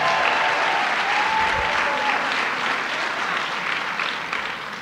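A breakfast crowd at the New York Stands with Puerto Rico event applauding the parade's Grand Marshal, a loud, full wash of clapping sustained throughout, slowly tapering toward the end.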